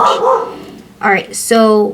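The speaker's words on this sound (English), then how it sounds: "excuse my dogs." Dogs barking indoors at home, two or three short close barks and a yip, with a person talking over them.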